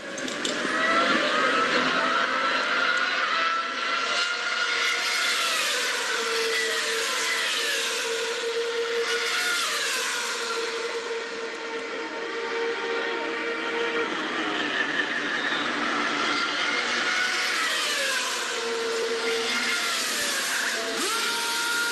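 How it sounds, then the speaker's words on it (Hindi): A large vehicle passes by in a long, loud roaring sweep, with shifting tonal whine and rushing noise that swell, ease, then build again as it goes. "ये गाड़ी आती है, खुद होता है,"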